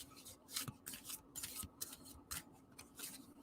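Soft, quick riffling and rustling bursts come in uneven clusters, close and quiet, like a deck of cards being shuffled.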